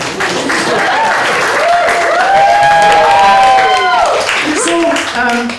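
A stand-up comedy crowd claps and cheers, the applause sustained and fairly loud while a voice speaks over it.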